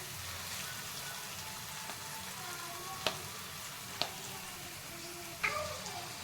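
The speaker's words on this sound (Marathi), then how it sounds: "वाटण आपण छान तेल सुटेपर्यंत परतून घेणार आहोत." Ground masala paste sizzles and fries in hot oil for a goat intestine curry, a steady close crackle with a few sharp clinks of a spoon against the pan.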